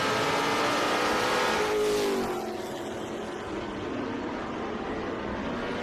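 TA2 race cars roar past at Charlotte Speedway, one engine's tone rising and then falling away as it passes, over a continuous wash of other cars racing nearby, with no voice.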